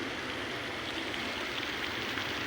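Steady splashing and rushing of a koi pond fountain, a continuous broadband wash of falling water heard up close with no clear voices over it.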